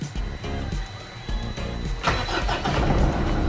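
Engine of a Mitsubishi Montero Sport starting after 70,000 km maintenance, cranking briefly then catching and settling into a steady, loud, close idle with a rough mechanical rumble.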